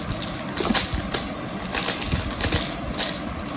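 Rubik's 3x3 cube twisted quickly by hand while scrambling it, a run of close, dry plastic clicks and rattles in irregular bursts, no talking.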